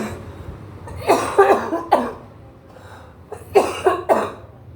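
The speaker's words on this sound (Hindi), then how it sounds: "खांसी अभी भी मेरी बहुत ज़्यादा, मुझे खांसी है" Several harsh coughs in two clusters, a burst of three or four, a pause, then another burst, fairly close and loud.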